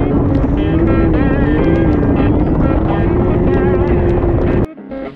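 A 2020 Can-Am Maverick X3 Turbo RR side-by-side engine drones loudly and close with a steady hum and buffeting wind, then cuts off abruptly near the end.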